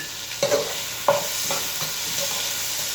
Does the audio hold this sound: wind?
no